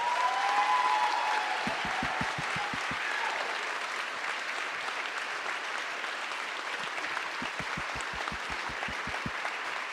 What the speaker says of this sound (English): How about a round of applause for these wonderful people?